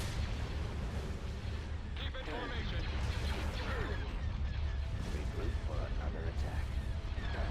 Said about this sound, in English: Direct fire at their laser cannons.